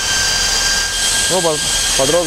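Loud, steady whoosh of cooling fans on car audio amplifiers in a BMW 7 Series E38 bass build, a broad constant roar throughout, with a voice speaking briefly over it near the end.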